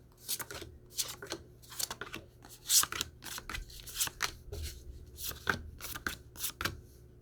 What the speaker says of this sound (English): I guess we're doing one more shuffle.